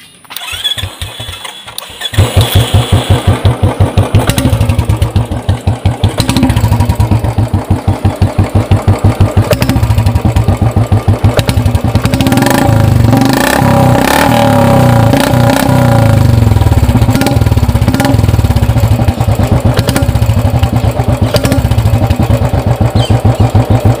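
A Royal Enfield Classic 350 motorcycle fitted with a matte black long bottle exhaust cranks and fires up, then runs loud and close with a steady thumping idle and repeated revs for over twenty seconds, with no voices.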